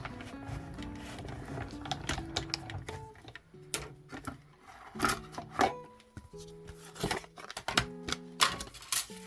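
Embossing folder cranked through a manual die-cutting machine with cardboard and a silicone mat, giving a steady mechanical grinding and clicking roll with uneven bursts, close and fairly quiet, no talking.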